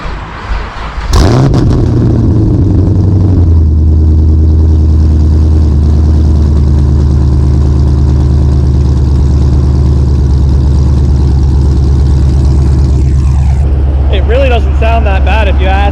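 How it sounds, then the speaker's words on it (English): A supercharged Camaro engine cold-starts after sitting about a month, cranking and catching, then settling into a loud, rough, steady idle that runs on, close by, with a voice briefly audible at the end. "let's do one hell of a cold start, because it hasn't been started in probably a month"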